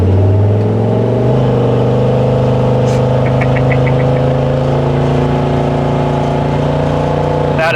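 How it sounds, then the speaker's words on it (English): A 1950 GMC 3100 pickup truck engine loud and close, idling with a lopey, choppy rumble, then revving up briefly before settling back. "We're idling real smooth, great choppy tone to it."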